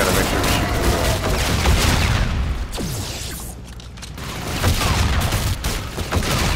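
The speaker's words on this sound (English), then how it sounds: "Gotta make sure to shoot through the wall." Rapid bursts of video game gunfire fired through a wall during a zombies-style match, dense and loud, rattling in clusters with booming impacts, easing briefly in the middle before picking up again.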